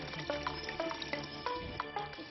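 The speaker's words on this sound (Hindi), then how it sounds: "नल से बहती धार और मुस्कुराते चेहरे" Tap water streams steadily from a household faucet in a village in Burhanpur, Madhya Pradesh, with a continuous close rush broken by small splashing plinks and drips, no voices.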